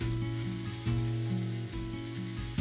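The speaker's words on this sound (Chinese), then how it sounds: "每面煎1到2分钟，按你喜欢的熟度调整。 牛排上有油脂的部分也略煎一下。" Seasoned steak sears in a hot pan, a steady close-up sizzle of fat and oil with faint shifting under a low background tone.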